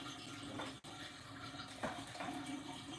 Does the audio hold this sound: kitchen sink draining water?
yes